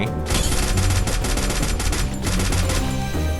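An AK rifle fires in a shooter video game, loud rapid automatic bursts close up with brief pauses between them.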